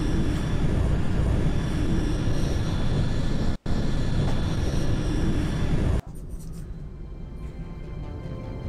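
Spaceship landing on Noveria in Mass Effect, a loud continuous roaring engine rumble with a brief dropout, then cutting to a quieter hum with faint mechanical noise.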